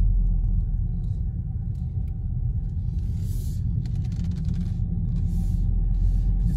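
A 2021 Subaru WRX base model driving around the block at dusk, with steady low engine and road rumble filling the cabin and faint hissing noises above it.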